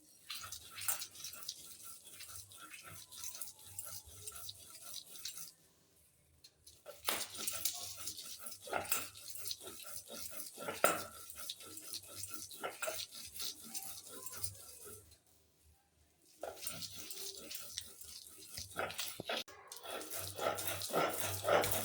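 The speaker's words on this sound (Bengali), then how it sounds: "আমি প্রথমে মরিচ আর রসুনটা বেটে নিতেছি" Chili and garlic being ground by hand on a grinding stone for a coriander-leaf bhorta, a rough rasping rub repeating close up with two brief pauses, while a dog barks and a voice speaks quietly in the background.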